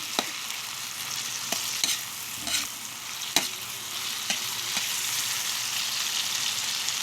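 Garlic, onion and tomato being stirred in a sizzling pan, a steady bright fry with several sharp utensil scrapes and taps against the pan.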